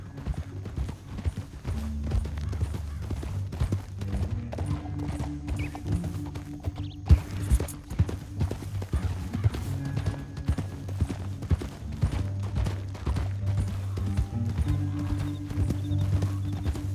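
Horse hooves clip-clop steadily in the Western video game Red Dead Redemption 2, a continuous rhythmic trot over a low droning score, with an occasional whinny.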